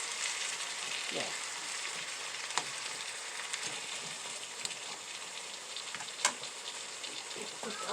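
Diced tomatoes cook in a pan with a steady, close hiss of frying and sizzling that runs unbroken, marked by a few sharp pops and ticks.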